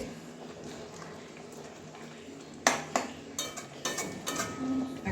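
A spoon stirs mung dal with cauliflower stems and beans in a cooking pot. After a quiet stretch come close metallic scrapes and clinks against the pot in uneven strokes.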